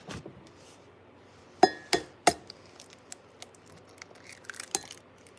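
Hard-boiled eggs clinking against one another while being rinsed, three sharp close knocks in quick succession followed by softer scattered taps and faint clatter.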